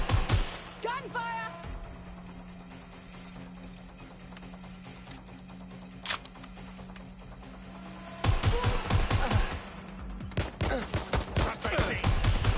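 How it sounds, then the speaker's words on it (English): Gunfire in the video game Watch Dogs Legion: a few sharp bursts early, then a lull over a low steady hum, followed by a dense rattling fusillade of rapid shots near the end. "Gunfire!"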